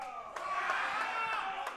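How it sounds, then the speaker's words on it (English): A family cheers and yells from the crowd at a powerlifting meet, a sustained rowdy roar with sharp shouts cutting through, and voices of the surrounding audience mixed in. "you hear her family fire up in the crowd"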